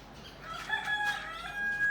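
A rooster crows once in a drawn-out, warbling call, moderately distant, over a quiet background, at Quimixto, Mexico.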